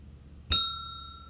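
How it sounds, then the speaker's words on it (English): A single small bell rung once during a live watercolor painting tutorial, a bright ding that rings out and slowly fades, alone in a quiet room. "someone named Michelle sent us a bell, so now we don't have to add it in post now"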